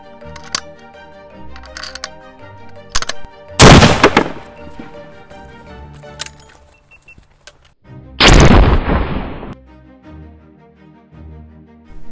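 Two heavy, loud shots ring out several seconds apart from the world's most powerful pistol caliber carbine firing 375 grain Cutting Edge solid rounds, with mechanical clicks and handling noises in between.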